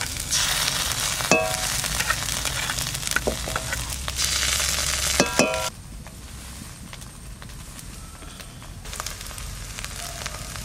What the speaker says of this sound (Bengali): আদা রসুনটাও খুব সুন্দর করে কষে নেব